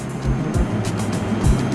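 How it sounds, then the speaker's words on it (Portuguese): A self-driving car moves along city streets, its steady engine and road rumble heard from inside with a continuous, close drone and small fluctuations. "Ninguém está dirigindo, o carro vai sozinho."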